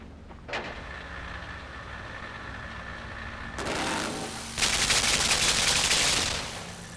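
A machine gun turret in the game Limbo bursting into rapid, loud mechanical fire after a short click, the dense rattle running steadily for a couple of seconds over a low hum, with no one talking.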